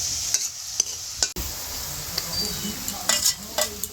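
Fried onions with ginger-garlic paste sizzling in a pan for a spinach chicken curry, close and steady, punctuated by repeated scraping stirs of a spatula against the pan.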